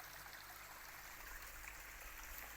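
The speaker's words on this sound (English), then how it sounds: "I can see a stream coming down off the hillside there." A stream runs down a hillside through damp, low-lying woodland, giving a steady, faint, even rush of trickling water with no breaks or voices.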